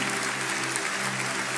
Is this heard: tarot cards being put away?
no